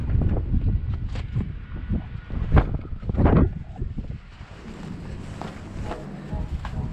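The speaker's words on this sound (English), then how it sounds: "the wind's blowing so hard today" Strong, gusty wind blows outdoors beside a dumpster, roaring and buffeting the microphone in irregular surges that run throughout without a break.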